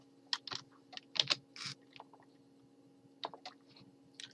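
Someone types on a computer keyboard in short, quiet bursts of clicking keystrokes separated by pauses, with a faint background hum.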